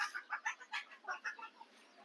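Free-range country hens on a farm cluck in a quick series of close, rhythmic bursts, about eight short calls in two seconds, with no voices.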